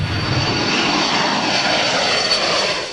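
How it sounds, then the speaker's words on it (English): The engine of a U.S. military spy plane flying a counter-narcotics patrol gives a loud, steady droning roar with a faint high whine, close and continuous, with no voices. "A U.S. military spy plane is on a mission to catch cocaine-loaded speedboats"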